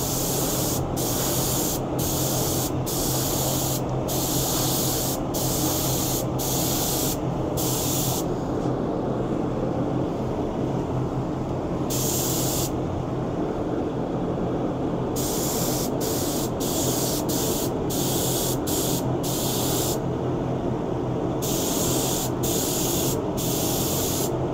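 Cerakote coating is sprayed onto Harley XLCH pistons in a run of short, sharp bursts of hiss with brief gaps between them, close and fairly loud, and nobody speaks.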